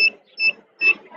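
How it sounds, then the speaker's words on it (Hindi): Electronic beeps from a blind person's obstacle-sensor walking stick at a school science exhibition, three short bright tones repeating about every 0.4 seconds, close and clear with faint background murmur between them. "बीप बीप की आवाज़ बजने लगी, इसका मतलब सामने कोई ऑब्जेक्ट है"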